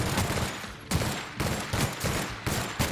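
Rapid bursts of automatic gunfire from a heavy-recoil video game weapon, loud and close, repeating in roughly half-second volleys with no talk over them.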